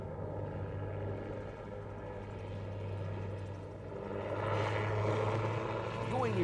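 A Calidus autogyro with a Rotax engine flying past at an air festival, a steady propeller and engine drone that swells louder as it nears, heard at a distance over crowd-line ambience with talk in the background.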